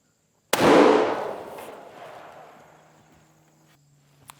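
A deer rifle fires a single loud gunshot at an outdoor shooting range, a sharp close crack followed by a long decaying echo that rolls away over several seconds, with faint small clicks near the end.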